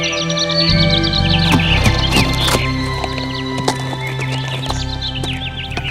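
In an animated kids' story, a horse whinnies and its hooves clip-clop steadily, loud and near, with birds chirping in the background.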